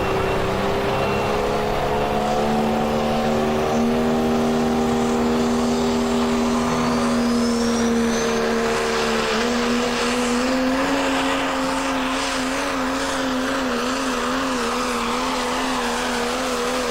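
A Chevrolet diesel pulling truck roars through a pull at a tractor-and-truck pulling event, one loud sustained engine howl that climbs in pitch and holds with no voice over it.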